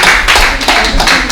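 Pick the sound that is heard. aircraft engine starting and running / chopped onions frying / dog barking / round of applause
round of applause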